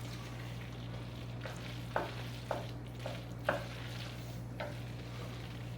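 A 2x4 board stirs hot goulash in a pot, giving a handful of soft scraping, sloshing strokes at irregular intervals over a steady sizzle and a low hum.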